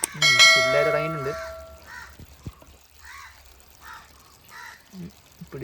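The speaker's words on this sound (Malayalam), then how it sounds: "ഞാൻ വീഡിയോ എടുക്കുന്ന സമയത്ത് എപ്പോഴും കാക്ക വന്നിരുന്ന് വിളിച്ചോണ്ടിരിക്കും കേട്ടോ" A crow caws repeatedly near a newly set up 5 ft fish pond during tank cleaning, a series of harsh calls spaced through the clip, with a brief loud tonal sound at the start.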